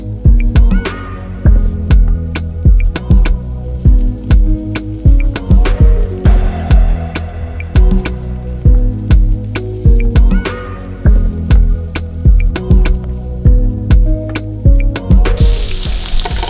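Alaskan cod fillets with seasoning sizzle steadily in a hot pan, loud and close, with regular rhythmic scraping and stirring taps throughout and no talking.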